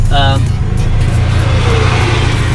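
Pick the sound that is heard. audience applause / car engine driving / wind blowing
car engine driving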